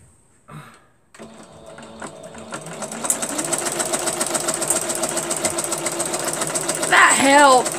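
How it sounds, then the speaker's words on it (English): Sewing machine stitching both sides of a fabric dish caddy, a steady rapid needle chatter that starts after a brief pause and runs continuously, growing slightly louder near the end. "I'm going to sew it on both sides"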